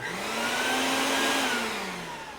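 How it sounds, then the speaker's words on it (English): A vacuum motor runs for vacuum forming with a steady whooshing roar and a high whine that rises slightly then sags, close and continuous. "you're gonna hear a vacuum sound in a minute or two here"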